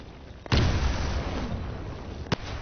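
A grenade going off in the Titanfall tutorial: one sudden loud blast with a long rumbling decay, then a brief sharp knock near the end.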